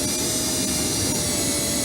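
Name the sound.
power drill driving a screw into a child stool part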